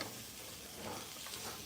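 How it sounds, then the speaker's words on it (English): Two peeled apples sautéing in a pan give a steady, soft sizzle and light stirring, faint and continuous with no voices. "I'm sauteing my apples"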